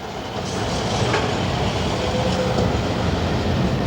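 An automatic, computer-controlled train rolls along with a steady, loud rumble and wheel clatter, heard close up and continuous with no talking.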